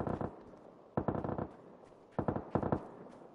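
Automatic gunfire from another player in the game PUBG, several short rapid bursts of shots in quick clusters with pauses between, fairly distant and moderately loud.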